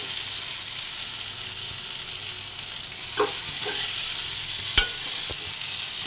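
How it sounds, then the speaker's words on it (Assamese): Pork with onion and potatoes frying in a pan, a soft steady sizzle with occasional stirring scrapes and one sharp utensil knock, fairly quiet and without speech. "বইল কৰাৰ পিছত এয়া অলপ পিঁয়াজ দি ফ্ৰাই কৰি আছোঁ"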